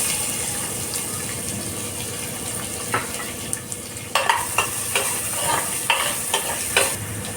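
Sliced large onion hitting hot oil in a pan for a coconut chana dal curry, giving a steady sizzle with a run of sharp stirring scrapes and clatters toward the end, close and loud.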